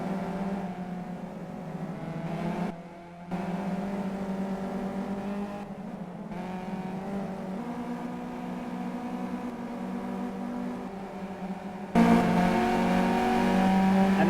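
Race car engines from the Simraceway video game in an EVO class online race, a steady loud sustained drone with shifting pitch, briefly dipping and then jumping louder near the end, with no talking.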